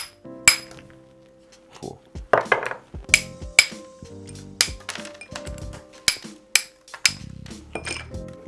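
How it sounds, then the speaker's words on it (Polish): A large ice cube is smashed for a caipirinha, giving sharp cracking and clinking impacts that fall irregularly, with some louder hits close up and short pauses between them. "Teraz sięgam do zamrażalki po mój duży sześcian lodu, który niestety na potrzeby tego koktajlu muszę zniszczyć."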